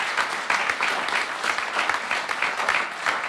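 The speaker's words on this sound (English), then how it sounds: "Let's give you a round of applause" A crowd at a bill signing ceremony claps for Thomas, a close, lively round of applause with steady rhythmic claps filling the whole moment.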